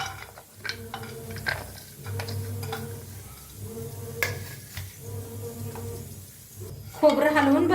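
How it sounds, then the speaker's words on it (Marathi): Dried coconut stirred and roasted in a pan, with rhythmic scraping strokes of a spoon against the metal at close range and a louder clatter near the end. "खोबरं हलवून भाजून घेऊया"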